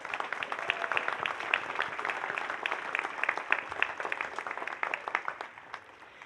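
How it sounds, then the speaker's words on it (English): Crowd applause at a law school commencement ceremony, many hands clapping in a brisk, crackling patter that holds steady and then thins out near the end. "Let's give them a round of applause."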